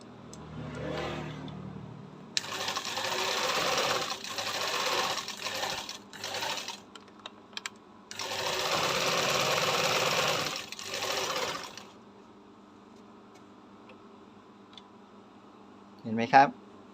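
A sewing machine stitches straight after a bent needle that caused skipped stitches was replaced. It runs in two long whirring bursts with short stops between them, and someone talks before and after.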